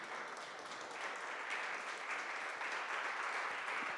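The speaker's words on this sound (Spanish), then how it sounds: "Yo quiero que usted se ponga de pie y le dé un aplauso inmenso, grande, grande al Señor de los cielos y la tierra" A standing church congregation applauding during a Spanish-language sermon, a dense, even wash of clapping that holds steady for four seconds, heard at a moderate distance without talk over it.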